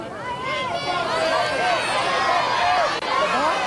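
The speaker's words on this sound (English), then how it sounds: "Now, the crowd is telling him what to do, as they always did" A game show studio audience shouting advice at a contestant, many overlapping excited voices calling out at once in a loud, dense babble that carries on throughout.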